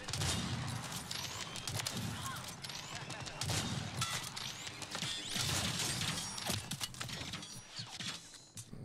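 Scattered gunfire in a shooter video game, bursts of sharp shots and clattering impacts layered over busy game noise across the stretch.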